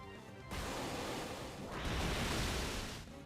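Waterfall attack effect from Pokemon Omega Ruby/Alpha Sapphire: a loud rushing, crashing water burst starting abruptly, surging stronger midway, then cutting off after about two and a half seconds.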